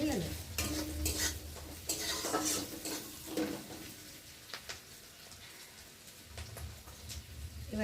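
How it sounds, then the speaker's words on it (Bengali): Onions frying in a pan until reddish for a small hilsa fish recipe, a continuous sizzle broken by repeated scraping stirs and clinks of a utensil against the pan. "পেঁয়াজটা একটু লাল লাল করে ভেজে দেবো"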